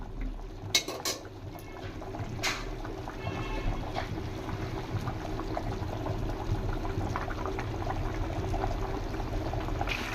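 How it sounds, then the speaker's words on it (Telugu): Rice boiling in water in a pot for chicken biryani, a soft, steady bubbling and simmering hiss throughout with a few faint metallic clinks early on, quiet and close. "రైస్ చూడండి ఏ విధంగా ఉడుకుతుందో"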